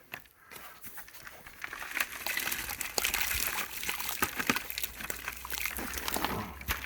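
Thick clay paint being mixed and worked by hand, giving wet sloshing and sticky squelching with repeated irregular strokes at moderate level, with no talking.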